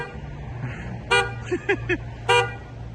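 Two brief car horn toots a second apart over a low idling engine hum, with a few short warbling calls between them from turkeys blocking the road on a foggy day.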